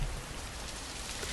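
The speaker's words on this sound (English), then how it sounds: "Oh, it's raining." Steady rain in a Japanese horror video game patters densely and evenly on a surface, a continuous close hiss with no voices.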